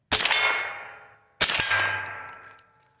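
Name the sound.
gunshot from Smith & Wesson M&P 15/22 rifle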